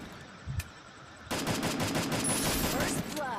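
Rapid automatic gunfire from the mobile battle-royale game Free Fire rattles out in a dense, loud burst of shots lasting nearly two seconds after a quieter lead-in, then stops abruptly.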